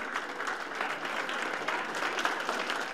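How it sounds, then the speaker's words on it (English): Dozens of people applaud at an evening ceremony in Utica honoring a little girl's life. The crowd claps in an unbroken, even wash of sound that is moderately loud and has no voices over it. "dozens applauding the life of Halima Hajai"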